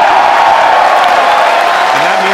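Crowd of spectators cheering and applauding at a SpaceX rocket re-entry burn confirmation, a steady dense roar of voices with no pauses.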